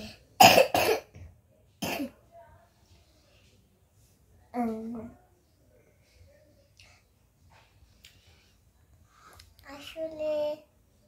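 A child suffering from a cold coughs in a few sharp bursts spread across a quiet room, close and loud, with a soft childlike voice speaking between them.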